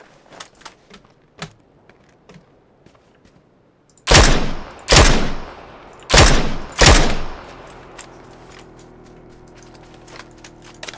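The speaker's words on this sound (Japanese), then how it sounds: "今の銃声ちょっとやばいけどな" Four loud gunshots ring out in quick succession in the video game PUBG, each followed by a short echoing tail, after a stretch of faint clicks and taps.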